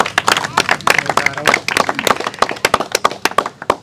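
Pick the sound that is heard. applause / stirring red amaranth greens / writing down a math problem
applause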